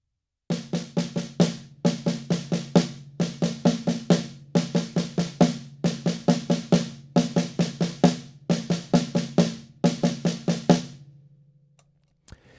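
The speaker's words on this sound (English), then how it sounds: "if I do it on the snare drum here, it's going to sound like this." Snare drum playing a right-hand five-stroke roll, repeated as eight crisp, evenly spaced clusters of quick strokes, loud and close, with no talking.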